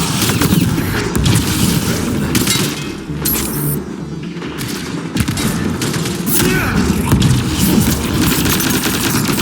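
Grenade blast in the sci-fi shooter game Mass Effect: Andromeda, set amid a dense, continuous battle soundscape of rapid gunfire and booming impacts, loud and close throughout with no clear pause.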